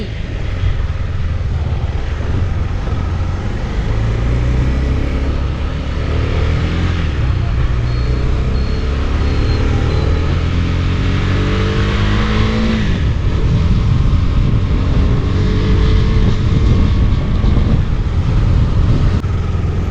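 A motorcycle ridden over road humps, its engine rumbling steadily and loud and close, with pitch shifts as it slows and picks up speed, under continuous wind noise.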